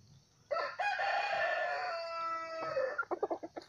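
A golden-blood Vietnamese decoy rooster gives one long, loud crow close by, ending in a run of short clucks.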